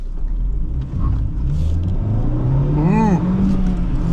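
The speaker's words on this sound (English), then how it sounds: "let's do a quick acceleration here" A 2008 Honda Fit accelerates from inside the cabin, its engine note rising steadily in pitch as it revs up. The engine sound is loud and continuous.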